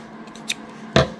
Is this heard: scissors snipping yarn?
yes